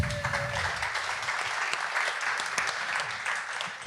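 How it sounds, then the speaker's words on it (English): An audience applauds a jury panel at a Cannes 2018 session, a dense, steady burst of clapping from a crowd in a hall, sustained throughout at even loudness with no talking. "A round of applause, please."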